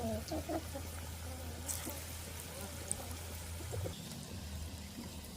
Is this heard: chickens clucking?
yes